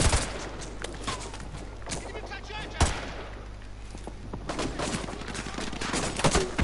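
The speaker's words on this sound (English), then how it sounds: "there's a guy right above him shooting at me" Enemy gunfire in the Modern Warfare 2 campaign, rapid bursts and single shots crackling fairly close and loud, with a sharp report near the middle over steady battle noise.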